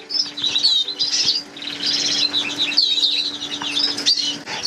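A red agate mosaic canary hen in an aviary gives bright, rapid chirps and short trilling phrases, close and clear over a faint steady hum.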